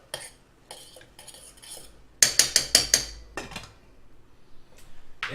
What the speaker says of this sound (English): Stir that rice a little bit.